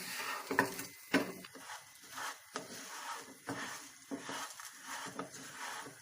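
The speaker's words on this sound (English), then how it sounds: "Let's add the puffed rice ball, the jaggery, and let's mix it." Puffed rice and jaggery are stirred together in a pan off the heat. The sound is a series of soft, irregular scraping strokes with occasional light knocks of the spoon against the pan, quiet and close.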